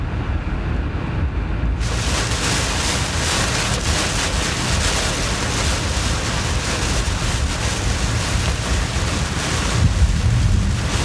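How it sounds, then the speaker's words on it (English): Heavy rain pours down steadily during a spring rainstorm with tornado warnings in Raleigh, North Carolina. The roar is a dense, constant wash of noise that stays loud and unbroken throughout, with no voices. "See how much water comes down and how quick it cools."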